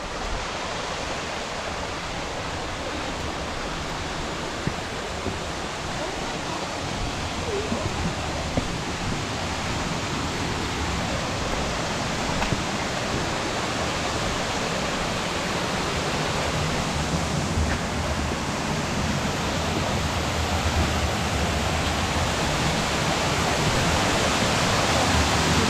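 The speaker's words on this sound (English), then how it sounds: "Just spotted this little waterfall here." A small waterfall in the Lake District near Buttermere pours with a steady, dense, hissing rush of water, close and unbroken, slightly building toward the end.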